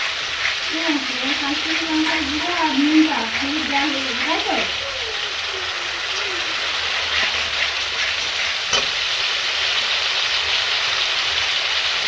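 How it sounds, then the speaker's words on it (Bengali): Spice paste for a tangra fish curry fries in oil, a continuous close sizzle and crackle lasting throughout, with a faint voice in the background early on. "ভালো করে কষিয়ে নেব মশলাটা"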